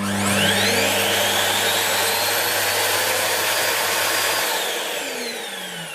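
A 2013 Hoover Purepower vacuum cleaner motor runs loud and steady with a high, rushing whine close by, its pitch sliding slightly before it eases down at the end.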